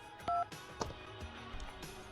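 Telephone dialing tones from Grand Theft Auto: Vice City ring out as a few short beeps, the first held clearly, followed by soft handset clatter and quiet background hum.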